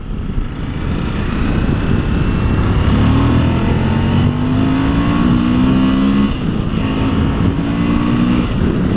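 A Suzuki V-Strom 1000 motorcycle engine with stock exhaust revs steadily close by, its pitch rising in long sweeps as it climbs through the gears, with a constant roaring rumble underneath.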